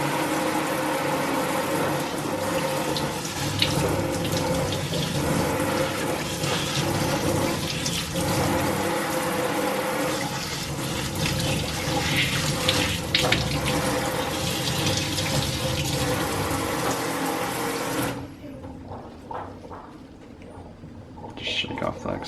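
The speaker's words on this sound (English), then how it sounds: "we'll rinse this one, and I'll show you what it looks after rinsing" Water from a tap runs steadily as it rinses aphids off the leaves of a potted plant, a dense rushing stream that stops abruptly near the end and leaves quieter handling sounds and drips.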